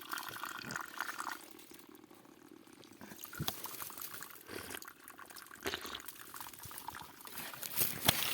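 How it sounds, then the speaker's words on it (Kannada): Water flows out of a small cave stream with a faint, soft, continuous trickle and pour, with a few louder splashy moments nearby. "ಈ ಚಿಕ್ಕ ಗವಿ ಹೊಳಿಗಿಂದ ಹರಿದು ಬರ್ತಾ ಇದ್ದು ನೀರು"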